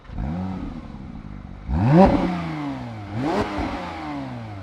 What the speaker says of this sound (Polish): Ten 4-litrowy, 6-cylindrowy, bokser ukryty tutaj za tylną osią